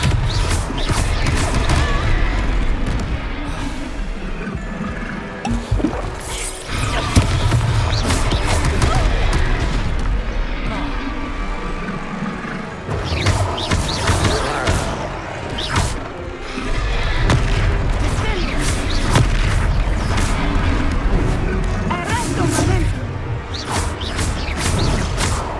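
Expelliarmus spell duel in the Hogwarts Legacy video game, a dense loud clash of magical blasts, crashes and thuds layered over music, continuous with brief dips.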